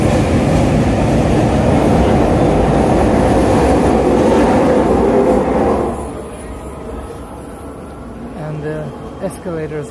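A SkyTrain rapid transit train rumbles loudly through a busy station in British Columbia, a broad steady roar that cuts off sharply partway through, leaving quieter station ambience with scattered clanks and brief squeals.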